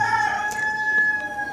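A rooster crows loud and close, a single sustained cock-a-doodle-doo call standing alone with no talk.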